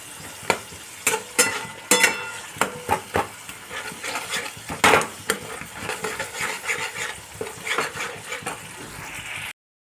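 Poppy seed paste fries in a pan, with steady sizzling broken by repeated sharp scraping and stirring knocks of a spatula, loud and close with no talk.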